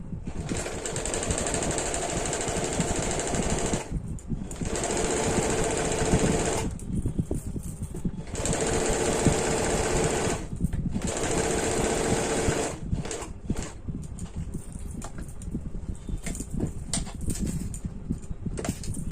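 A sewing machine stitches the side seams of a deep-neck kurti with a loud, close, rapid rattle in long runs, broken by short pauses where the fabric is repositioned.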